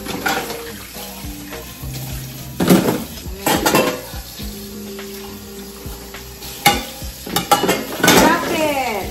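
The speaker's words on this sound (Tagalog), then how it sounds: "Hugas tayo ng pinggan, guys." Dishes and cutlery are washed after a meal: plates and utensils clatter and clink in irregular bursts over running tap water, close by, with no talking.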